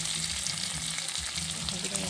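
Ground spice hitting hot oil in a frying pan while making egg paturi, giving a steady, close, continuous sizzle with faint stirring scrapes and no voices.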